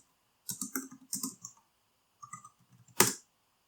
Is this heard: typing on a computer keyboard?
yes